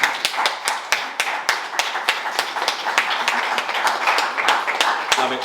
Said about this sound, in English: Keep clapping, you're enjoying yourself.